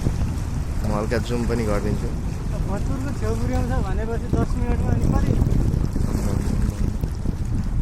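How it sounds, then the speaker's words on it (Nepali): A boat's engine and rushing water drone steadily under gusty wind noise at Chatara Dham, with a person talking briefly over it. "ल हेर्नुहोस् त पानी जहाज।"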